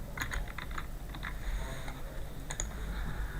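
Typing on a computer keyboard, a short run of light key clicks in small bursts, fairly faint over a steady low background hum.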